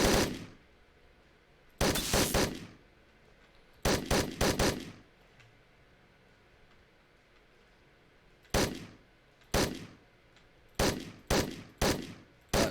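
Gunfire in the Hotline Miami 2 video game: sharp, loud bursts of rapid shots, some single and some in quick clusters, split by short quiet gaps, with no talking.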